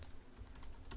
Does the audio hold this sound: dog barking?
no